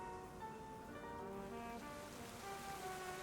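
Rain falling in the video game Pokemon Legends Z-A, a steady hiss of rainfall with faint tonal game music layered above it, no voices.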